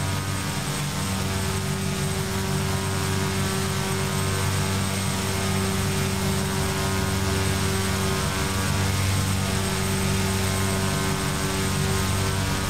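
A simulated King Air turboprop cruises over default scenery in X-Plane 11, its steady engine drone and propeller hum filling the cabin at an even, loud level throughout, with no talk.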